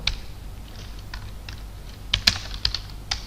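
Quick irregular clicks of a computer keyboard being typed on, soft and close, with a few louder key strikes near the end and no voices.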